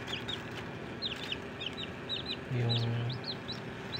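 Chicks peep in repeated high chirps beside a hatching brown egg in a DIY incubator, with a steady hum underneath and a brief low voice partway through.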